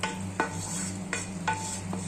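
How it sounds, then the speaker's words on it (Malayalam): Popped mustard seed tempering poured into a taro and green gram curry, giving a low steady sizzle broken by three or four scraping stirs of a utensil against the pot. "ഇനി ആ കടുക് പൊട്ടിച്ചത് ഈ കറിക്കുള്ളിലേക്ക് ഒഴിക്കുകയാണ് കേട്ടോ"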